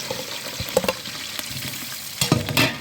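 Sliced onions sauté in hot oil in a big batch for mutton sukka, giving a steady soft sizzle broken by scraping stirs and sharper crackling bursts, close up with no talking.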